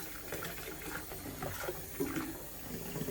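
Water runs and bubbles steadily as a container fills for yarn dyeing, a continuous gurgling wash of moderate loudness with no voices.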